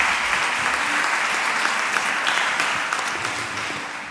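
An audience at a national One Health congress session applauds a speaker, steady full clapping from a sizable crowd that gradually fades toward the end.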